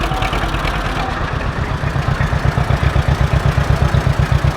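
A 1942 John Deere H antique tractor rolling in a parade, its engine chugging in a steady, loud low-pitched putter that grows more pronounced toward the end.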